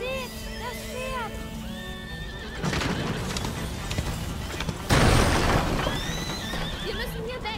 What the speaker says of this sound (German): Seht! Das Pferd!